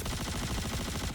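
Rapid video game gunfire striking hangar decoration, a dense fast rattle of shots filling a short burst, loud and continuous without speech.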